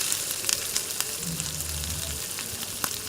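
Finely chopped onions fry in a pan for a cauliflower dish, with a close, steady sizzle broken by a few sharp clinks and scrapes of stirring.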